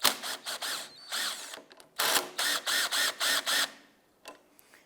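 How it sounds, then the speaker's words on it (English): Ratcheting and clicking bursts as a 13mm socket works the top nut off a rear strut bushing on a 2011-2019 Ford Fiesta, with short, evenly spaced mechanical whirs, moderately close and fairly quiet. "Using a 13mm socket, we're going to go ahead and remove the nut off the top of the strut bushing here."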